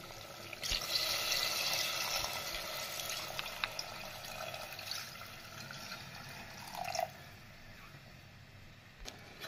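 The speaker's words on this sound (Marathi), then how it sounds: "आता आपण याच्यामध्ये पाणी टाकून घेऊ" Water is poured into vegetables frying in oil for a chicken curry, a steady close hiss and splash of liquid that runs for several seconds, then tapers into the quieter sizzle of the pan.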